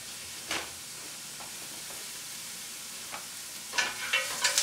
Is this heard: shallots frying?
yes